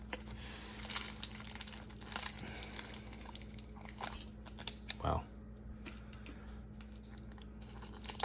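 Sticky foil wrapper being peeled and torn off a 1994 Bowman baseball card box, with faint close crinkling and scattered tearing rustles under a low steady hum, and a person speaking briefly.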